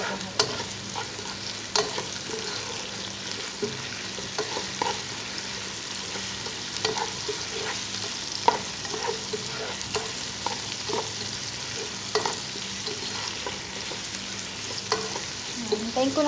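Onions and herbs fry and get stirred in a pot for Kabuli pulao, a steady close sizzle with occasional spoon clicks and scrapes, no talking.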